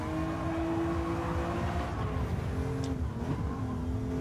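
A BMW M2 is driven in a racing video game, its engine holding a steady drone that rises and falls with revs, with a brief higher whine near the end and no talking.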